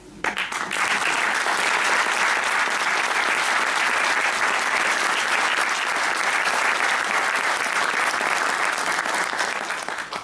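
Loud, sustained applause from a crowd at a book launch, dense clapping that starts abruptly and holds steady throughout without pause.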